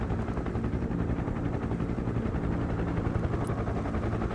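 Helicopters in the video game Broken Arrow: steady, even rotor chop and engine drone at moderate level, unbroken for the whole stretch.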